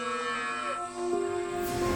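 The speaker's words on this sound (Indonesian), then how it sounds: "Tiba-tiba, dia mendengar suara sapi." A cow gives one long, sustained moo with a steady tonal pitch that shifts slightly midway, loud and close, with no other sounds around it.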